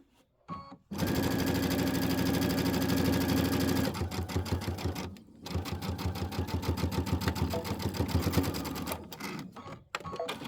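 A sewing machine stitches Kimberbell Enchanted Winter quilt top pieces in two long, fast, steady runs of rapid needle chatter, close and loud, with a brief pause between them and short stops at the start and end.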